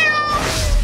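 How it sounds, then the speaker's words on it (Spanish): A kitten gives one clear, close, rising-then-falling meow, loud and alone without any talk. "Aquí tienes a este dulce gatito."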